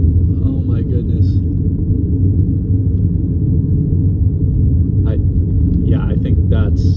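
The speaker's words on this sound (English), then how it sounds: "I think that's a large tornado in front of me." Large tornado crossing a road during a Colorado supercell, a steady deep rumble roaring continuously throughout, loud and close, with brief voices breaking in over it.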